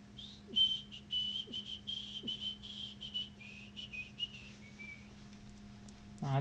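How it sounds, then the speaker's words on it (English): A person whistles a quiet, high tune of short held notes and quick runs, fairly close but soft, over a faint steady hum, with a few soft clicks and a brief thump at the end. "I'm sorry, I won't make you listen to me whistle."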